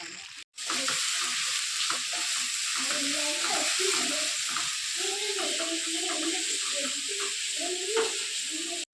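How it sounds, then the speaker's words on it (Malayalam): Onions sautéing in coconut oil with popped mustard seeds and curry leaves, a steady close sizzle with stirring clinks and scrapes, a short pause at the very start. "ഇത് വെക്കുന്നത് വെളിച്ചെണ്ണ ഒഴിച്ച് കടുക് വറുത്തിട്ട് കരിയാപ്പലയും കൂടി ഇട്ടിട്ട് സവാളയും എല്ലാം കൂടെ ഒന്ന് വഴറ്റിയെടുക്കുന്നുണ്ട്"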